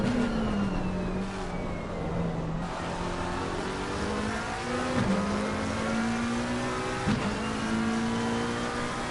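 GT3 race cars in a PS4 online league race through Laguna Seca's Corkscrew, engines howling loud and continuous, pitch rising and dropping sharply through gear shifts, with a second car's engine layered close behind.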